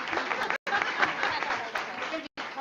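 An audience at a school board of education meeting claps in a lively, dense burst, broken by two brief cutoffs, moderately close and loud.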